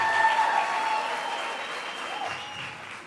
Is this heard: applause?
yes